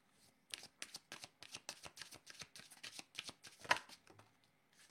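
A deck of cards for a card reading is shuffled in quick, rhythmic riffling bursts, close and fairly soft, continuing steadily for several seconds.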